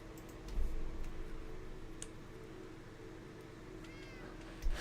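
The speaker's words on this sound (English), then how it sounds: "It's so cool hearing him purr." A pet cat lies close by on a bed and purrs as a low, steady rumble. A few faint clicks and a short high chirp are heard over it.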